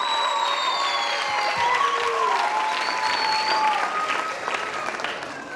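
An indoor audience at a church blessing meeting in Thane claps for Pastor Sandeep Nikam, a dense, sustained round of applause that holds steady and then begins to thin out toward the end.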